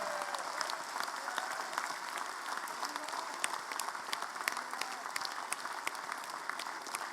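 A large crowd at an UMNO Youth gathering stands and claps in a sustained ovation, a dense, even wash of applause that carries on for several seconds.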